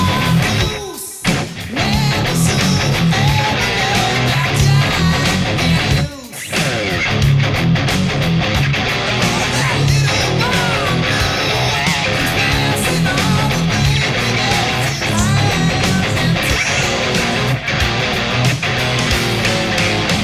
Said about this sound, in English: And that verse riff sounds like this